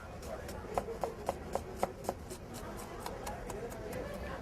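A knife chopping an onion on a board for salsa, a run of about a dozen quick, even taps close by, with faint murmured talk underneath.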